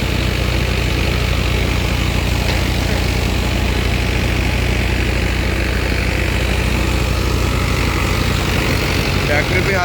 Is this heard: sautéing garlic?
no